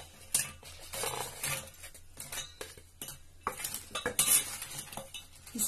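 Fried shahi samosas made with bread and coconut are stirred in sugar syrup in a pan, giving irregular scraping clinks of a metal spoon against the pan with soft sizzling underneath, close and moderately loud, no talking.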